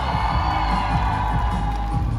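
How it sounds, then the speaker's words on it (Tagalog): A large crowd at a mall tour event in an SM mall cheers, shouts and applauds continuously, a dense, loud, sustained roar of voices and clapping. "Pwede ba parinig muna ako ng palakpakan nila na may kasamang hiyawan?"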